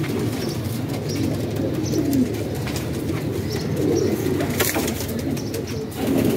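Soft, repeated coos of Teddy pigeons layered over one another, close and steady, with a low murmuring flock sound throughout.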